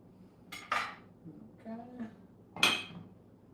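Dishes and cutlery clink faintly during brunch cooking of spam sliders, with a few brief clatters spread across a quiet kitchen and one louder clink near the end.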